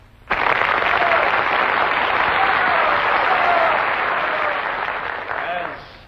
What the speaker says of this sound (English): hearing your applause for the fine talents